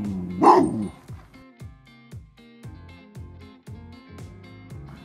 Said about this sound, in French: je vais provoquer en fait un premier aboiement